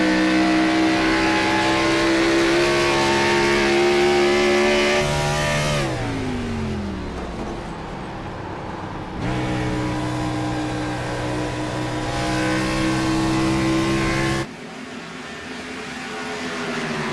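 A stock-car-style race car engine at wide open throttle on the straightaway at Dover, a loud sustained harmonic drone with pitch sweeps as cars pass and shift, cutting off abruptly near the end.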